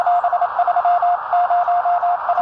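Morse code keying received on a Radtel RT860 handheld radio tuned to the 40-metre HF band: a steady sidetone of dits and dahs in bursts, with one short gap, over a constant hiss of band noise.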